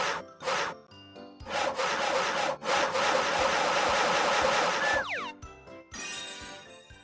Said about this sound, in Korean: 왼쪽, 오른쪽, 톱질을 해주세요.